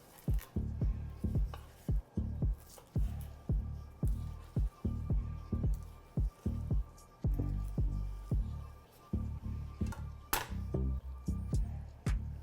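A knife carves a cooked ribeye steak on a board in a steady series of soft, dull cuts and taps, close and even in rhythm over about twelve seconds, with no talking.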